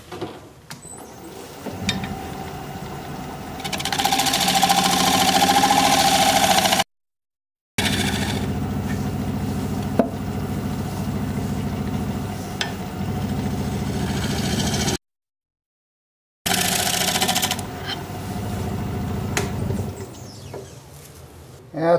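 A wood lathe turning a plum crotch live edge bowl, a steady motor hum and rumble with scraping tool passes, interrupted by two brief gaps of silence.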